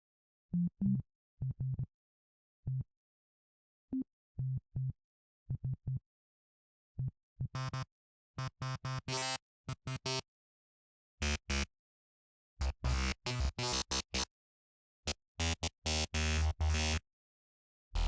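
Bright, buzzy FM synthesizer notes, first short sparse blips, then dense rapid bursts of harsh metallic tones in a choppy rhythm.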